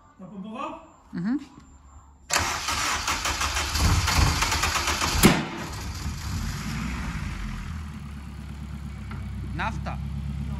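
A turbocharged K20 engine in an all-wheel-drive Honda CRX drag car cranks briefly, then fires into a loud, rough idle with a sharp pop, settling into a steady rumble while people talk quietly nearby.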